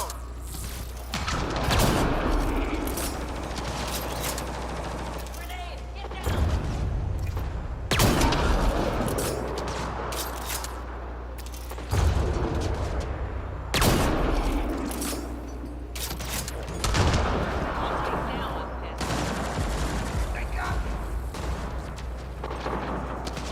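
Repeated bursts of heavy sci-fi gunfire and booming blasts from a firefight in the video game Mass Effect: Andromeda, loud and continuous in clustered volleys with occasional thuds.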